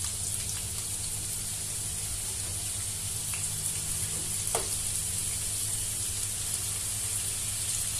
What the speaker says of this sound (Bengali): আমরা এখন আলুগুলো ছেড়ে দেব তেলের ভিতর।